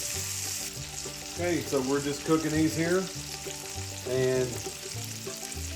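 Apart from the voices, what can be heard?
hamburger steak patties frying in a pan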